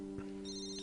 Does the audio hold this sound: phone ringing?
yes